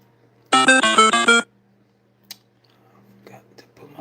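A phone ringtone plays a short bright electronic melody of quick repeated tones for about a second, close and loud, then stops, followed by faint clicks and quiet speech.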